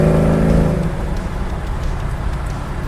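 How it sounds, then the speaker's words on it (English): Exhaust of a 1967 Camaro SS under acceleration, a brief loud rumbling bark at the start that settles into steady road and engine noise, heard from inside the moving car. "I don't know if you can hear that exhaust bark a little bit under acceleration"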